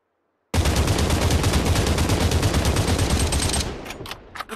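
Sustained rapid automatic gunfire in the VR shooter Population One, a loud close burst of about three seconds that tapers into a few scattered shots.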